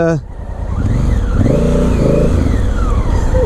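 A 2017 Honda Africa Twin motorcycle engine revs and pulls through a U-turn, a steady mid-pitched drone rising and falling close by, with wind noise throughout.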